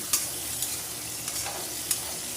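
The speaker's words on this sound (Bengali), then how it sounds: "বড়ি ঢ্যাঁড়স দুজনাই ভাজা ভাজা হয়ে গেছে" Sun-dried lentil dumplings and okra frying together in oil, giving a steady sizzle with four sharp stirring clacks at irregular intervals.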